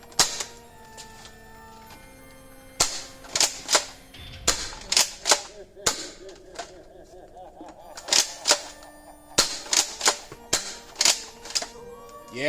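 A Zuru X-Shot Fortress toy blaster fired through a chronograph, giving a string of sharp, close snapping shots in an irregular rhythm with mechanical clicks and brief handling noise between them.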